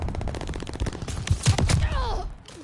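Rapid rifle fire in a Call of Duty: Vanguard multiplayer match, a dense burst of close shots crackling together, followed by fainter scattered reports and game effects as the volley trails off.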